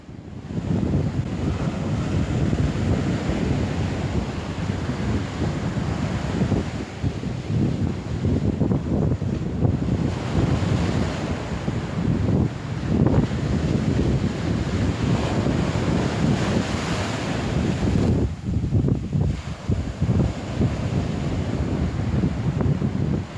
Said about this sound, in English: Yes, this is a beach, and everybody has seen beaches and everybody knows what it is.